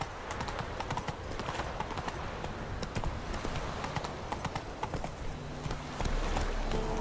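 Roach, a horse in The Witcher 3 video game, galloping with rapid rhythmic hoofbeats clip-clopping over ground, steady and close, joined near the end by a low droning sound.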